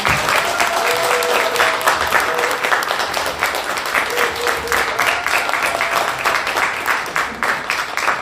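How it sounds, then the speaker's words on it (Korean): An audience at a talk concert about the National Security Law bursts into sustained, dense applause. The clapping is loud and even and continues throughout with no pause. "우리 박수로 강성호 선생님 모셔보겠습니다."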